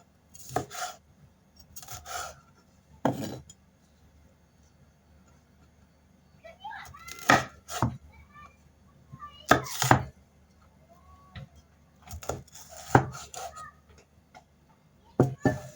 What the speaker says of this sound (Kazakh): болгар бұрышы, тураймыз